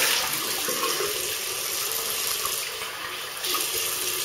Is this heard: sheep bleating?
no